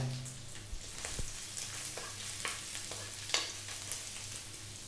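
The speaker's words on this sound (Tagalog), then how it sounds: "pumunta tayo sa ating next step, ang pagigisa. So magpapalit lang ako ng sandok. Lalagay ko na yung ating luya." Chopped ginger sautéing in a pan for a Filipino quail egg and sweet potato stir fry, giving a steady soft sizzle with occasional stirring scrapes and light taps, close and fairly quiet.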